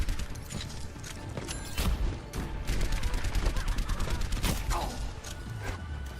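The Soldier's rifle in Overwatch fires in rapid, continuous bursts during a payload match, with some mechanical clatter under it.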